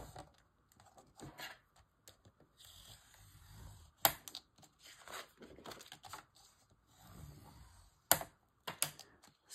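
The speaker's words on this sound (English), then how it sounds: "Gonna pull this tape." Adhesive tape pulled off a roll during paper crafting, faint intermittent ripping and crinkling with a couple of sharp louder tears, close by in a quiet room.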